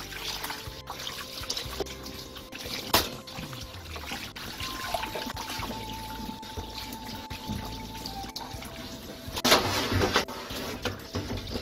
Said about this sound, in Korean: 찬물에 칼같이 헹궈갖고 손으로 꽉 짜서